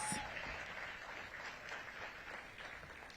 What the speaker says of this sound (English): let's give Ariana a big round of applause